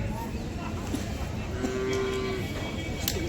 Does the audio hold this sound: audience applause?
no